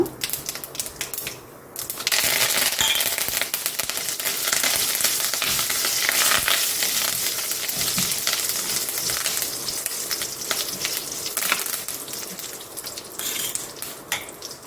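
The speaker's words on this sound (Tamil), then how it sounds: "கருவேப்பிலையும் ஒரே ஒரு வரமிளகா எடுத்து வச்சுருக்கேன், அதையும் போட்டுறேன்" Curry leaves and a single dried red chili dropped into hot oil for a spicy chutney, bursting into a loud, dense crackling sizzle that starts abruptly and stays up close and steady, with no talking.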